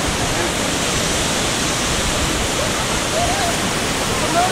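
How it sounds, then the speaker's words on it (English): Curug Malela, a mighty waterfall in West Bandung, roars as a loud, dense, unbroken wash of falling water that fills the whole sound, close and constant. "Now, once again, we look at the waterfall."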